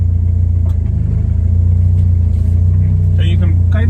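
A Toyota MR2 Spyder with a swapped JDM K24A engine and a 3-inch exhaust creeps a short way in reverse, its low steady engine rumble close and constant with a brief higher squeak near the end; people talk over it.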